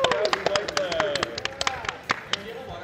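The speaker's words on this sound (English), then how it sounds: "Can we get a round of applause for people going outside" Scattered clapping at a Smash Bros gaming tournament, a loose round of claps from a small crowd with voices talking and chattering over it.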